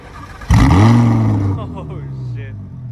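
A modded Audi R8 V10 fires up with a sudden loud crank and roar, the engine flaring high before settling into a deep, rumbling idle close by.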